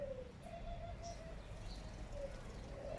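Soft cooing from pet birds sounds faintly over a steady background hum, with a few brief chirps.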